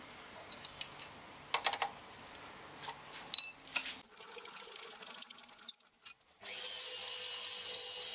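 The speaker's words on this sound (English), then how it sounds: "I'll drill this hole for the adjustment screw" A drill chuck on a mill bores a hole in a metal parting blade holder for an adjustment screw: scattered metallic clinks and taps, then the spindle starts and runs with a steady whirring hum to the end.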